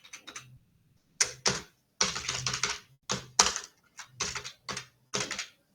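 Bursts of quick key clicks from a computer keyboard as a name is typed in Canva, coming in short clustered runs separated by brief pauses, close and clear with no talking.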